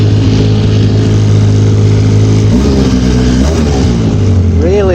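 Twin-engine vehicle grinding up a steep hill in low gear on fresh snow, a loud close steady engine drone that shifts pitch partway through, with faint rising whine near the end.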